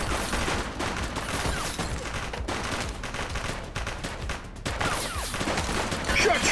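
Sustained automatic gunfire in a police action video game, a loud, dense barrage of overlapping shots with only brief dips before the firing resumes even harder.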